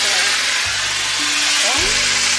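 Pork chops sizzle in a hot pan with garlic and thyme, a steady close broadband hiss running the whole time with a brief low hum and faint voice-like tones partway through.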